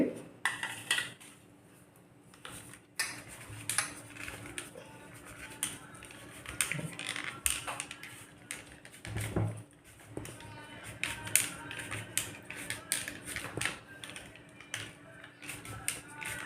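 A hand-pressed dry fruit cutter slicing almonds and pistachios, giving repeated sharp metallic clicks and taps at an irregular pace, close and fairly quiet, with a person speaking softly at times.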